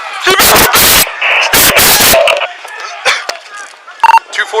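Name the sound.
gunshots fired during police confrontation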